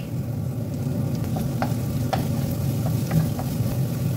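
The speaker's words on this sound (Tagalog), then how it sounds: "At isutay din natin ang ating garlic." Sliced onion and garlic sauté in a pan for pancit bihon, giving a steady close sizzle with occasional light stirring scrapes and ticks, alone without voices.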